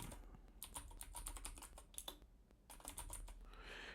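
Rapid clattering keystrokes on a computer keyboard while an email address is entered on a Windows 98 machine, bursts of clicks with a short pause in the middle, close and fairly quiet.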